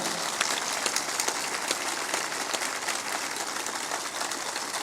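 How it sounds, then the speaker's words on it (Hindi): A large crowd at a spiritual discourse in Chindipur claps loudly and continuously on request, a dense, even wash of applause heard alone for the whole stretch. "जोर से ताली बजाओ"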